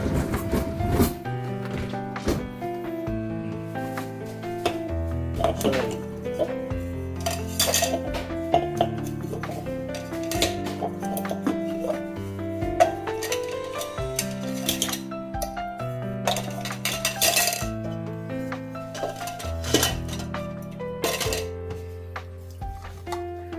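Plates and dishes clink and clatter continuously, close and busy with many sharp ringing knocks, with no voices.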